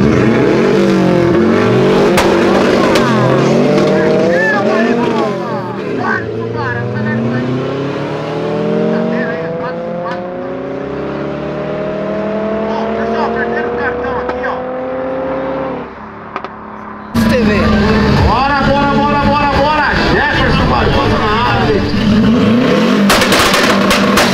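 VW Gol 4x4 accelerating hard at a street race, the engine climbing in pitch through long rising sweeps and gear changes, loud and close, then a sudden louder burst of revving with tire noise, while voices talk throughout.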